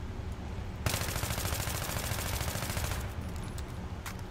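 Full-auto bursts from an AEK-971 rifle in Battlefield 3, rapid continuous gunfire that starts sharply after a quieter moment and rattles on steadily, tapering near the end.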